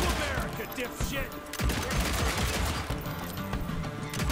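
Rapid fanned revolver gunfire in the video game Evil West, a dense continuous volley of sharp cracks with reverberant booms, loud and near, with faint voices mixed in.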